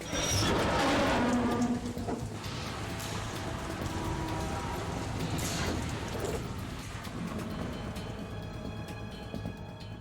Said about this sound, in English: It stopped raining.